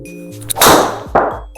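A golf driver strikes a ball in a GSPro simulator at North Berwick West Links, a single sharp metallic clang close up that rings briefly, followed by a second softer impact-like burst.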